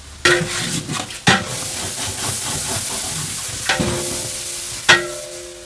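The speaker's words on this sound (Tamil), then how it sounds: "தக்காளி, இஞ்சி, பூண்டு, வெங்காயம் அந்த எண்ணெயில் சூப்பர் வாசம் அடிக்குது. இது இன்னொரு 2-3 நிமிஷம் நல்லா வதங்கட்டும், தக்காளி மசியட்டும்." Tomato, ginger, garlic and onion sauté in hot oil for a chicken curry, a constant close sizzle and hiss with a few sharp clanks of the spoon against the pan.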